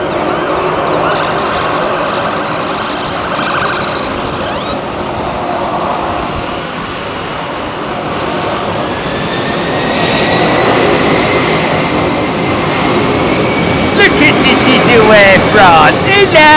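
A heavy jet departs runway 27R at London Heathrow, a loud, continuous engine roar with a rising whine that swells toward the end.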